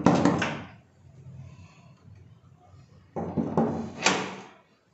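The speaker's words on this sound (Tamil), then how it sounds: "தட்டுவோம் கதவை." A house door is handled twice, with a loud wooden rattle and thump at the start and another burst a few seconds later. A quieter pause falls between the two, and nobody speaks.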